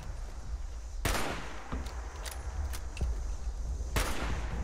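Gunfire in the video game Fallout 76: several sharp, loud shots spaced a second or more apart, two very strong cracks standing out over a steady background rumble, with no talk.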